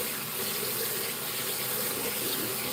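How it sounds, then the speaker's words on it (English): Rice being rinsed under a running kitchen tap, a steady close splash of water that fills the whole moment without pause. "we just rinse this rice off real quick"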